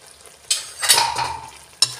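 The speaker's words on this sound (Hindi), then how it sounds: "देखिए हमने पनीर डालने के बाद भी हमने 2 मिनट के लिए सब्जी को ढक दिया था" Mixed vegetables with paneer are stirred in a pan, giving a few brief scraping and sizzling bursts at close range, with short quiet gaps between them.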